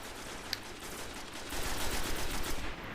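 Rapid automatic gunfire from an auto rifle during a Destiny Crucible PvP Control match, with steady bursts of shots that grow louder and denser toward the end over constant game background noise.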